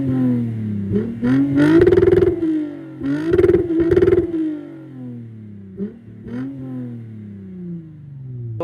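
A 2008 Lexus IS250 V6 with an aftermarket exhaust revs hard several times, climbing up and bouncing off the limiter with a crackling, stuttering edge. It is loud and close, with brief idle dips between the bursts.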